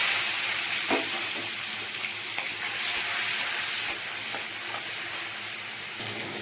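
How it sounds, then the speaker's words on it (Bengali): Prawns frying in hot oil in a pan, left over from frying potatoes, giving a steady bright sizzle and hiss with occasional pops and crackles, close and continuous with no voices. "তো এই তেলটার মধ্যেই আমি এবার চিংড়ি মাছগুলোকে ভেজে নেব।"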